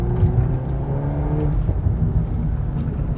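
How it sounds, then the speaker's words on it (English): A 2023 VW Golf R Mk8 with its 320 hp turbocharged engine and DSG gearbox revs and drones from the cabin, the engine note rising and easing with a rough, burbling edge as the exhaust crackles on the overrun. "You also have some burbles on the overrun, which yeah, does enhance the enjoyment of the sound."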